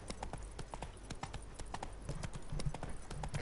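Hooves of Roach, Geralt's horse in The Witcher III: Wild Hunt, clip-clop steadily in a quick, even rhythm close by, each footfall distinct over a low ambient game backdrop.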